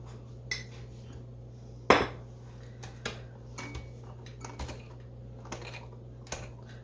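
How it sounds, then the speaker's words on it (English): A spoon stirs flour and cocoa into a chocolate cookie mixture in a bowl, giving scattered sharp clicks and taps against the bowl over a soft, low background. "And I'm just kind of stirring it around first to help prevent a big mess."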